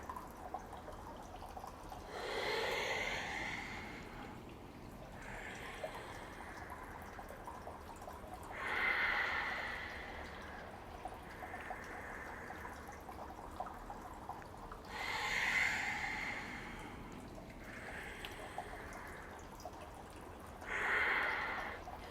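Slow, deep yoga breaths in a calm anxiety-relief session, with long airy inhales and exhales repeating in a steady cycle about every six seconds, soft and close with no talking.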